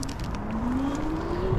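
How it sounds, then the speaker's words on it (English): A Senada Saber Pro 1000W fat-tire electric bike runs at full throttle, its thin motor whine climbing steadily in pitch over a loud, continuous rumble of wind and road noise. "So I'm gonna go full throttle right now and see how fast it'll go."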